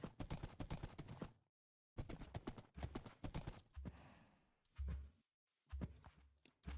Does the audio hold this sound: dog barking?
no